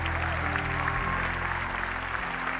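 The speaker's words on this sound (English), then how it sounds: "Can you guys give them a huge round of applause?" Applause from an audience for camp counselors, a continuous clapping texture heard over a low steady hum and background tones, fairly quiet and even throughout.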